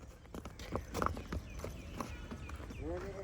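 A horse walks for exercise, its hooves clip-clopping in a steady, moderately close rhythm while someone talks over the sound.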